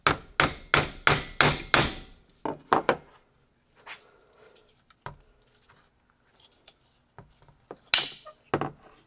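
A hammer drives a 3/16 transfer punch through holes in a throttle pedal, opening with six rapid, loud metallic strikes, then lighter scattered taps and clinks, and a final pair of sharp blows.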